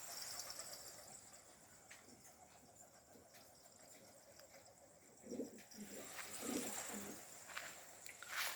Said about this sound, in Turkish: O Gövalaca ötüyor hem de ya.